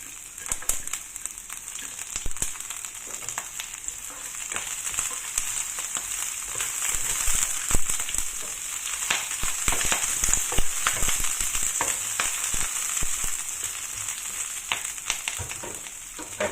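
Ginger, onions and scallion sizzle steadily in hot oil in a pan, a close, continuous crackling fry with scattered sharper pops throughout, and no voices.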